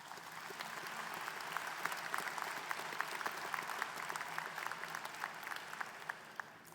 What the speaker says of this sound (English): Graduates, let's applaud for those families